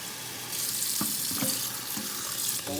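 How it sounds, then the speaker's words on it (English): Cold tap water runs steadily over vegetables in a kitchen sink while egg foo young is made, with a few soft knocks and splashes as the vegetables are rinsed, close and alone. "you're gonna rinse this under cold water until all of these vegetables are nice and cool"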